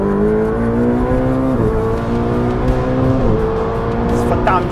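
Ferrari 488 GTB accelerating hard through the gears in automatic mode, a loud, steady engine howl rising in pitch with two quick upshifts, close and continuous throughout.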